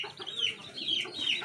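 Two brooding hens sitting on eggs cluck softly in a low, murmuring series of calls, faint and a little distant.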